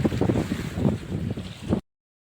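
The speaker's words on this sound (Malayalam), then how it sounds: "കാറ്റാണ്, ഭയങ്കര കാറ്റ്" Strong wind buffets the microphone in loud, gusty rumbles, with the wash of sea waves beneath, during sea fishing.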